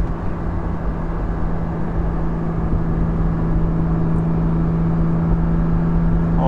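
A Porsche 718 GT4 fitted with a Soul Performance rear exhaust section cruises at low revs, giving a steady, loud, resonant droning hum with a pronounced low tone and road noise underneath.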